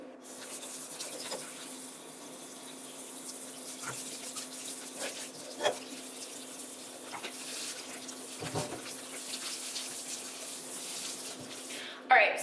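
A watermelon washed under running water from a tap, a soft steady trickle and spray with a few louder splashes, fairly quiet and close throughout.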